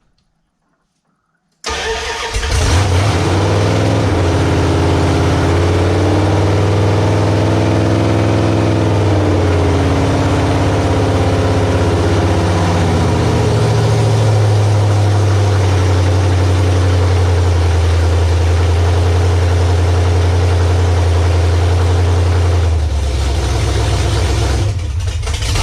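A Dodge Ramcharger engine fires up after a moment of silence and settles into a loud, steady idle close by, the pitch dipping and shifting slightly as it runs on before cutting back near the end.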